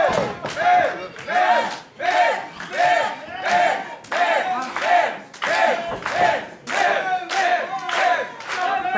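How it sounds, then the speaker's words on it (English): A wrestling arena crowd at the Mims versus AJ Cazana match chants in loud, rhythmic bursts, about nine surges in nine seconds, rallying behind Mims. "Crowd rallying behind Mims here."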